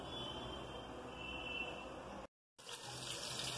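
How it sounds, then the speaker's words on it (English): Water for fried rice in a pot, rushing and bubbling steadily at close range, with a brief dropout in the middle before it resumes. "and the water is boiling."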